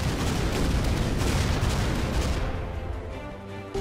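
A shot fired at a target in the artillery video game Shellshock: a loud, sustained booming blast rolls on for a few seconds, then trails off into a quieter rumble near the end.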